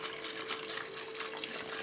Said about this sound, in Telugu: సగ్గుబియ్యం మునిగేంత వరకు వాటర్ పోసుకొని